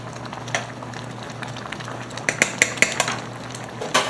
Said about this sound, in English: Stirring them peaches up at the same time.